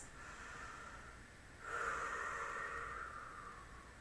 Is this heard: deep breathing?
yes